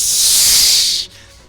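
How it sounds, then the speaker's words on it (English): A loud, steady hiss like searing steam as a silver rapier blade is pressed against flesh, lasting about a second before cutting off sharply into quiet. "You then hear a hissing sizzle."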